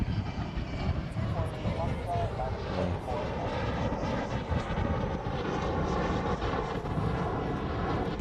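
A C-130 military transport taxis at Honolulu airport, its propeller engines giving a loud, continuous roar and drone throughout, with people talking over it.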